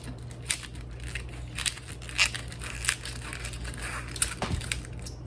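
Collard green leaves being cut and destemmed by hand, giving a series of crisp crunching snaps and tearing crackles at irregular intervals over a faint steady hum.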